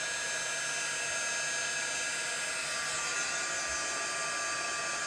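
Close, constant rushing hiss of a heat gun drying paint, a smooth airflow roar with a thin motor whine that holds steady without pauses or speech.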